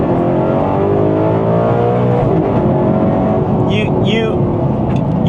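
An Alfa Romeo 8C V8 drones loudly from inside the cabin, its revs climbing, then a brief pause and clunky paddle upshift drops the pitch before it pulls on, with a voice speaking over it.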